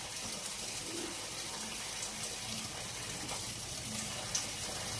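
Fenugreek leaves being washed in water, a steady running, gushing wash of water close by with faint clinks, no talk.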